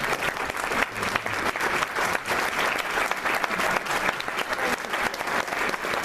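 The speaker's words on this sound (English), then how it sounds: "another applause for all of our co-panelists" An audience applauds panel members together at an event, with dense sustained clapping throughout, steady and fairly loud without pause.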